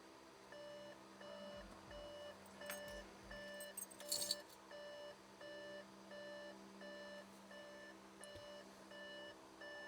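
Dashboard warning chimes sound in a steady repeating series of beeps from an Audi TT after the ignition is switched on, with a brief jangle of keys and low cabin hum underneath.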